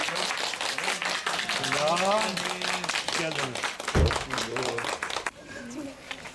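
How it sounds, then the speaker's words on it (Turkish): A welcome-home gathering for a man returning to his hometown after 43 years, with people clapping and applauding throughout while several voices talk and call out greetings over the applause. "Biz de alkışlıyoruz."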